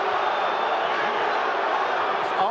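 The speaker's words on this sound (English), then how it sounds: "the part of the crowd that supports Holyfield boos lustily when the Let's Go Bowe chant breaks out" A boxing arena crowd at the Evander Holyfield vs. Riddick Bowe fight roars in a continuous mass of chanting and noise, with a commentator talking over it.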